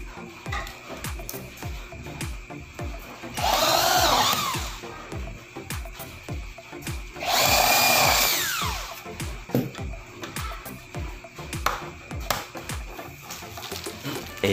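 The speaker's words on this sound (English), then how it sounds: "ginagamitan ko siya ng con drill bit." A power drill fitted with a concrete drill bit bores into an awning window frame during assembly, two loud bursts of drilling of a few seconds each rising over a steady background of tapping and handling noise.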